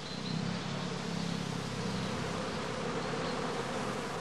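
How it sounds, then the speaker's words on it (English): A swarm of honeybees pours out of a straw skep at a house apiary, a dense, steady buzzing hum that fills the air close by and continues without a break. "the prime swarms have to be caught directly on leaving the skep"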